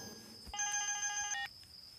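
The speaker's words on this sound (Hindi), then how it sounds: "फोन बज रहा है।" A telephone rings once with a bright electronic warble, a short burst of trilling tones close by against a quiet room background, with no talk over it.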